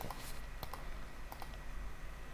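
Keys tapped on a Siemens CNC lathe controller keyboard during turning and turn-mill programming, a run of close, crisp clicks in small clusters over a steady machine-shop hum.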